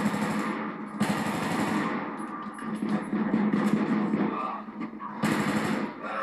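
Bursts of rapid automatic gunfire in a military shooter game, loud and close, with short pauses between volleys and someone talking faintly underneath.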